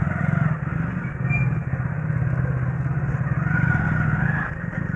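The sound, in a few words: motorcycle engine after self-start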